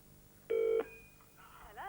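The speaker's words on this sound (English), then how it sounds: "And it's ringing out." A telephone line rings out with a single loud electronic burst of tone, followed by a quieter warbling trail on a 1992 television call.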